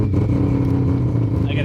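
A three-rotor race car engine fires up and settles into a loud, steady, throbbing idle close by, with a voice talking over it.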